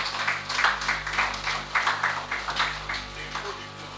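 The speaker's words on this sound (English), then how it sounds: "Please, let's give him a round of applause." Audience applause at a leadership lecture, a dense crackle of many hands clapping that swells and ebbs in waves, with a faint steady hum beneath.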